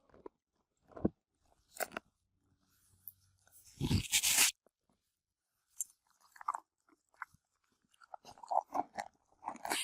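Horse chewing a treat through a grazing muzzle, close crunching and biting in irregular bursts with quiet pauses between, one louder crunch midway.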